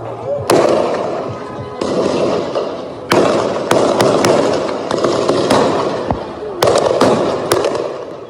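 Gunmen fire sporadically while a military van is set ablaze. Sharp, loud gunshot cracks come in irregular clusters over a constant roaring, crackling wash of noise.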